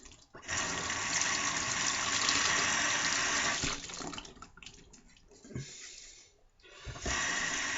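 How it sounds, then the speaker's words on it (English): A used shaving brush is rinsed under a running tap: a loud, steady rush of water that thins out and breaks up midway, then returns at full strength near the end. "I would immediately rinse it"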